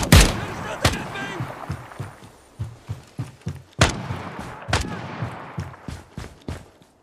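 Gunfire in the tactical shooter Ground Branch during a jungle operation: a loud opening blast followed by a sequence of sharp reports and thuds at irregular intervals, some close, some more distant, with voices shouting between shots.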